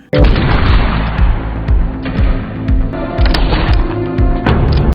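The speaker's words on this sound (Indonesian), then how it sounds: "Jack melepaskan tembakannya kepada Bobby" Gunshots in an action film scene ring out as a rapid series of loud, booming bursts, each followed by a short echoing tail, with a dense mix of impacts throughout.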